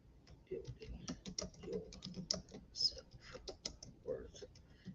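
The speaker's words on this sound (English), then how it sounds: "Right now I'm sitting here typing." Rapid clicking keystrokes on a computer keyboard, irregular bursts of typing close up with brief pauses between.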